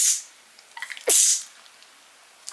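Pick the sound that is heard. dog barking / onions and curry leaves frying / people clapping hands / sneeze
sneeze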